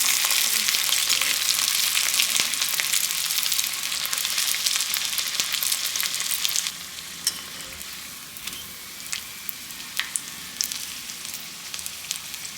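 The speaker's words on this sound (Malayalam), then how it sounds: "ഇതുപോലെ ബാക്കിയുള്ളതെല്ലാം നമുക്കിങ്ങനെ ഫ്രൈ ആക്കി എടുക്കാം" Filled chicken patties fry in hot oil, a loud dense bubbling sizzle that eases midway into a quieter crackle scattered with small pops, close up and with no talking.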